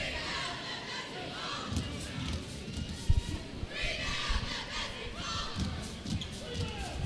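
High school basketball crowd in a gym, cheering led by a Cardinal mascot and cheerleaders on the baseline: a steady murmur of voices with rising cheers, a few ball bounces and sneaker noise, and a commentator talking over it.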